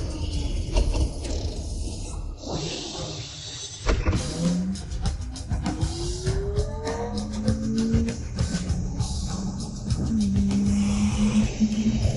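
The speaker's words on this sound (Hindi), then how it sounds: "एक अनमॉडिफाइड स्पोर्ट्स कार से रेसिंग स्पीड निकाल रहा है" An unmodified sports car driven at racing speed, its engine revving and climbing in pitch through sustained runs. Mechanical creaks and scraping sounds appear around it, with no talking.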